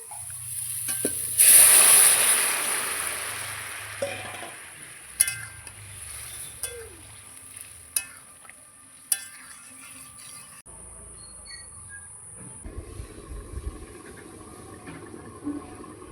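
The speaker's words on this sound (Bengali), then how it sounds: "আমি এবার তরকারিটা ঢেলে দেবো" Vegetable curry for a tilapia fish stew with raw banana and potato is tipped into hot spiced oil, setting off a loud sizzling burst that fades into quieter bubbling broken by sharp clinks of a utensil, with no speech.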